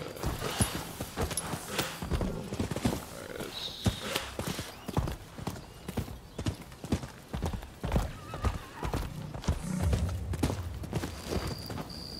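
Horse hooves clip-clop in the video game Rise of the Ronin, a run of close, rhythmic hoof strikes with a whinny among them, while someone talks now and then over the gameplay.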